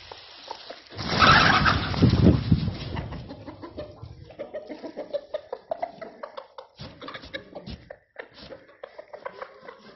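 A loud burst of flapping and squawking gives way to steady clucking and soft chirps from several chickens nearby, with no one speaking.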